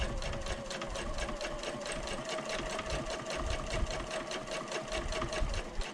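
A sewing machine stitches steadily along the edge of a bag pocket, a fast even rattling whir heard close up and continuous throughout, with no voices.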